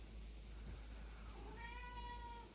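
A house cat gives a single drawn-out, wavering meow in a quiet room, faint but clear over a low background hum.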